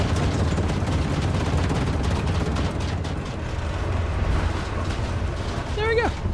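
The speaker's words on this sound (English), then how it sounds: "And we survived another horrifying explosion of the sun." A sun eruption explosion in the video game StarRupture, a loud sustained roaring rumble with dense crackling bursts, easing slightly midway before surging again, with a brief tonal effect near the end.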